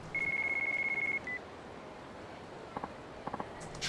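A phone rings in Yakuza 4: a steady, even electronic ringing tone repeats for about a second, then cuts off, leaving quiet ambience with a few faint soft clicks.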